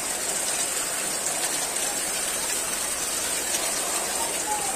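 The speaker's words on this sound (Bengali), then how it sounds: "ঘরের জানলা দিয়ে দেখাচ্ছি কিরকম বৃষ্টি পড়ছে, দেখেছো? প্রচন্ড বৃষ্টি পড়ছে।" Heavy rain falls outside a window during a downpour, a steady dense hiss heard from indoors with no breaks or talk over it.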